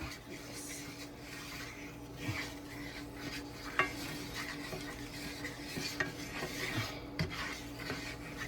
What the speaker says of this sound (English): This is how you make a roux, guys.